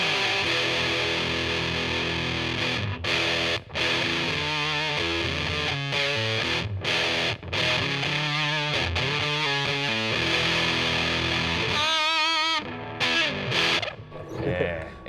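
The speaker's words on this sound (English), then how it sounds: "Big Muff is really cool because it's got that sort of real fuzzy, sort of crazy overdrive" Electric guitar played through a Big Muff fuzz pedal on a Telecaster's single-coil bridge pickup, giving thick, saturated fuzz with sustained chords and choppy riffs, loud and continuous with brief gaps between phrases.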